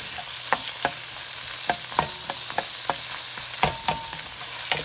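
Onions fry in a pan for a pork, potato and celery stir fry: a soft constant sizzle broken by a dozen sharp spatula clacks and scrapes against the pan at an uneven pace.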